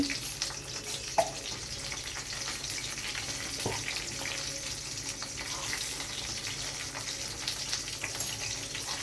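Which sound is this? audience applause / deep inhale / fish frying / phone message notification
fish frying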